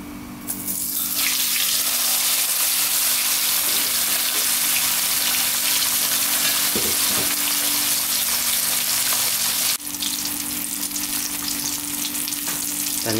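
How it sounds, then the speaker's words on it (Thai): Fish bones drop into hot oil and fry with a loud, dense, continuous crackling sizzle that stays strong throughout, close by and without speech. "เดี๋ยวเราเอาก้างลงทอดนะครับ"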